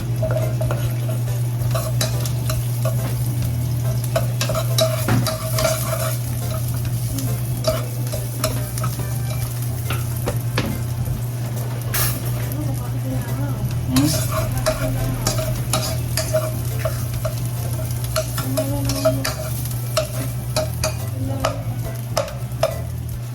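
Garlic fries in a saucepan with a steady, close crackling sizzle and scattered sharp pops, all over a constant low hum throughout.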